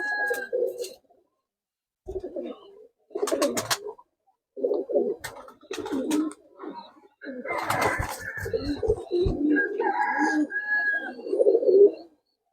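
Murshidabad tumbler pigeons coo and call close by in short repeated bursts, with some louder flapping or rustling in the middle and a voice briefly among them.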